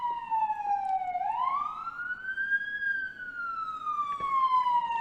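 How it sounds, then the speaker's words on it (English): An ambulance siren passing by on a street, a wailing tone that dips then sweeps up and slowly falls as it goes by at moderate distance, heard alone with no talk. "Do you hear the ambulance going by the way?"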